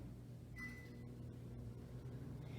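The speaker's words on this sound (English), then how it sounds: "now we'll put our chocolate frosting in the microwave for 30 seconds" A microwave oven heats chocolate frosting with a low, steady hum and rumble close by, accompanied by a brief tone and a few clicks.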